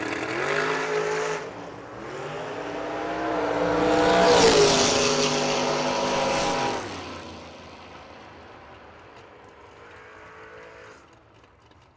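Drag racing at a strip, a Chevy Deuce and an S10 race car roaring loudly as they launch and accelerate past, the engine noise swelling to a peak and then fading into the distance.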